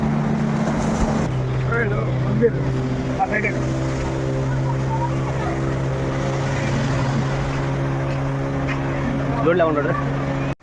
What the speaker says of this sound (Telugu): ఇది ఎంత స్పీడ్గా వెళ్తుందో బోటు